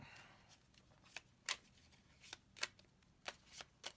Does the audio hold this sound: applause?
no